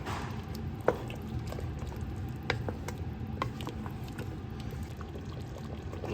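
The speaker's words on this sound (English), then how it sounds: "we're gonna give it a stir" Beef stew with carrots and potatoes is stirred in a pot, giving soft scattered scrapes and light clinks over a faint simmering background.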